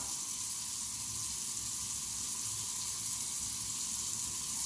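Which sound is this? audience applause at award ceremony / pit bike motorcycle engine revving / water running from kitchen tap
water running from kitchen tap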